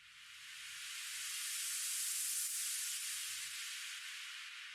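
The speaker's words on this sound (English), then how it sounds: "I also added a couple of transition sounds in between just to make the transitions a bit more smoother." A transition sound effect for an organic house track: a smooth rising and falling hiss-like noise sweep lasting several seconds, with faint low thumps beneath it.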